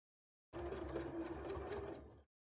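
A domestic sewing machine runs in a single steady burst of about two seconds, a close mechanical whir with a rapid rhythmic ticking, starting and stopping abruptly in otherwise silence.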